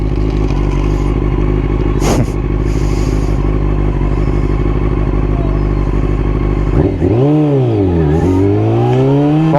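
A Yamaha R6 5EB motorcycle with a gear-shifting fault runs loud and close in first gear, holding a steady, rough idle with a clunk of an attempted shift, then revving up and down in rising and falling sweeps.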